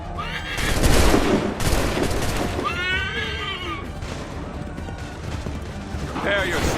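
A volley of musket fire in Assassin's Creed 3, heard as a ragged crackle of overlapping shots mixed with horse whinnies, shouting voices and battlefield clamor.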